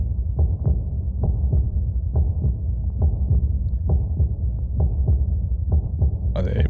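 A steady, muffled heartbeat thumping in a regular double-beat rhythm under a dense low rumble, loud and continuous, used as an intro effect with a short bright burst at the end.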